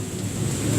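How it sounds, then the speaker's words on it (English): Thunder rumbling through a violent thunderstorm in the Bronx, New York City, a loud low steady roll with rain noise, no voices. "This is a violent thunderstorm right now, guys."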